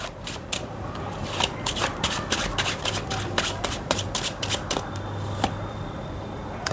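A deck of wealth manifestation cards handled and shuffled up close, with rapid crisp riffling bursts and flicks repeating steadily, no talking.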